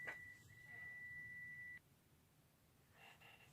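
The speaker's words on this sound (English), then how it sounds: "sorry if you could hear the timer go off. That was my load of laundry." A household laundry timer sounds one steady high electronic tone for almost two seconds and then stops, leaving quiet room hiss with faint fainter tones near the end.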